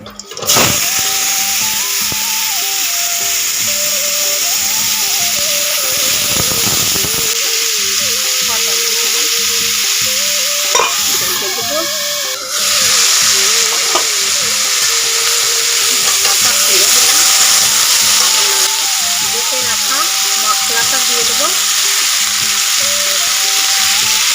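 Potatoes frying in hot oil with dried red chili and cumin, a loud, steady sizzle running throughout with occasional stirring scrapes.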